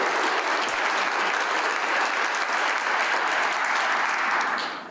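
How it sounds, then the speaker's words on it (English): Audience applause at a SCALE Program graduation ceremony, dense continuous clapping from a crowd that holds steady at full strength and tapers slightly at the very end. "I think I really would like to get a round of applause from my group, design and architecture."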